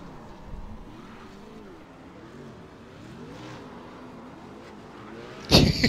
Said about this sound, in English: Charles is doing the donuts on the start-finish straight